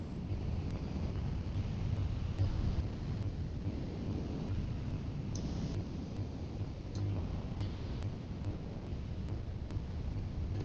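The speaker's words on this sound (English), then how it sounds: "Insert windy sounds here." Wind sound effect inserted into a tabletop roleplaying session: a steady, loud rushing roar with low rumble and gusty texture that runs continuously throughout, with no talk over it.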